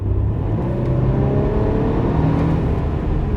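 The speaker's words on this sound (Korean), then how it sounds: "이렇게 가속 페달을 세게 밟았을 때도 이 가속력의 차이라던가 소리의 차이가 없어요" A Mercedes E350 4Matic in comfort mode accelerates hard from inside the cabin. Its engine makes a steady, full, rising drone with road whir, heard close and without talk.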